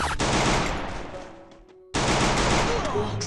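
Bursts of rapid automatic gunfire from a newly added gun in the Free Fire video game, loud and dense, with a brief lull before the shooting resumes at full intensity.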